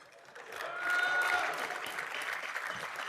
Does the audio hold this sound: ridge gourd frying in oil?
no